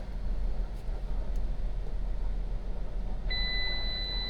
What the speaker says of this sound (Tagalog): buzzer na naman